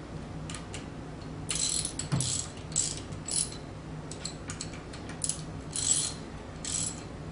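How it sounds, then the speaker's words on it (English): Socket ratchet tightening bolts in a cross pattern on an Arimitsu Model 3 Series high pressure pump during seal service, giving repeated bursts of close, crisp pawl clicking separated by short pauses, with no talk. "insert the socket to it, and we will tighten. tighten these bolts in a cross pattern."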